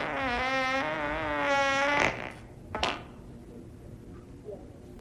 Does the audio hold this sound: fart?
yes